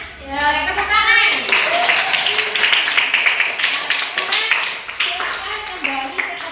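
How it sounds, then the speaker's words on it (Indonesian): A classroom of children clapping their hands after a group game, a brisk burst of many small hands under excited kids' voices and chatter, fairly close and loud. "Tepuk tangan."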